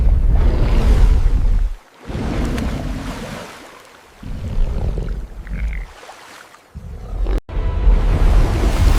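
A deep, rumbling dragon roar sound effect comes in long, loud, growling bursts separated by brief silences, with a sudden break near the end before a final roaring swell.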